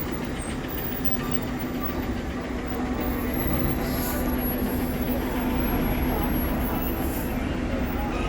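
TNSTC and SETC buses at the Nellai MGR bus stand: a steady, dense diesel idle and engine drone fills the whole stretch, close and unbroken, with a faint high whine above it.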